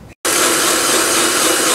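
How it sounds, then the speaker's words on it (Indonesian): A kitchen blender grinds spices and seasonings, including ground turmeric, cumin and pepper, for an egg and tofu dish, starting abruptly after a brief pause and running as a loud, steady whir close by. "Ini kita blender ya."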